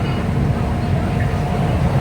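Soekarno-Hatta airport rail link train running steadily at speed, a continuous low rumble of wheels on track with a constant hum throughout.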